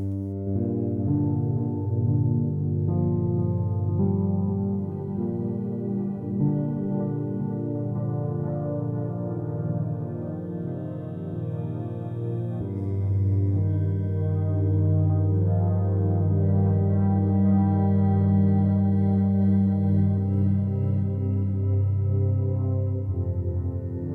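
A mellow, dark Arturia Augmented Grand Piano loop plays steadily at even volume, low sustained notes layered under soft chords with a slightly muffled, lo-fi tone.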